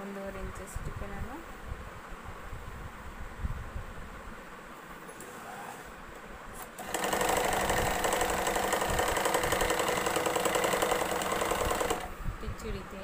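A sewing machine stitching a plain blouse runs in a steady, buzzing whir for about five seconds near the end, close and fairly loud, after a stretch of quieter handling noises and a person talking.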